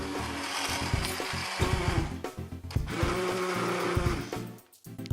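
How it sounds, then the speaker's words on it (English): Stick blender whirring through a thick, creamy flour-and-water batter for chicken balls, a close, loud motor drone with bumps and speed changes as it mixes, briefly cutting out near the end. "use a stick blender"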